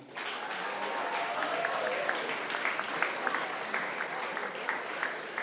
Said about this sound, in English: Please give a round of applause for Crystal Ortiz.